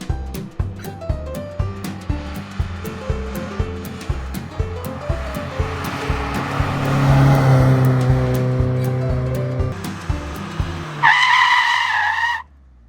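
A 1994 Mazda Miata is driven hard, its engine rising and falling through rhythmic shifts while the tires squeal in a long, loud skid that ends in a sharp burst before silence.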